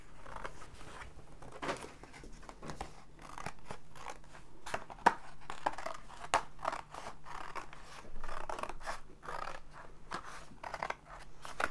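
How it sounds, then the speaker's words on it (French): Scissors snip steadily through thin cardboard during a Christmas table-decoration craft workshop, a quick run of close, crisp cuts and crunches with a faint steady hum underneath. "les enfants le découpent très facilement au ciseau"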